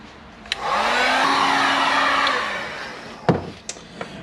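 A heat gun heating a crankshaft bearing on a DRZ 400 engine crankcase blows with a steady whirring hum for about two seconds, then winds down, followed by a few sharp clicks and taps.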